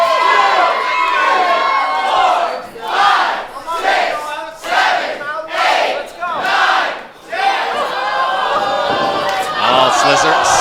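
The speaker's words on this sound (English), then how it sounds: "And you felt it here in downtown Las Vegas. This crowd came absolutely alive." A live wrestling crowd in a downtown Las Vegas venue roars and cheers in loud surging waves, chanting and shouting in rhythmic bursts, with commentary voices mixed in.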